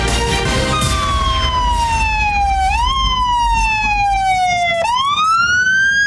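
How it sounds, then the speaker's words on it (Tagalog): Fire station sirens in Legazpi City wailing together, loud and close, their tones sliding down slowly and then jumping back up in repeated sweeps over steady traffic rumble. "Sabayang nagpatunog ng sirena ang mga fire stations sa Legazpi City"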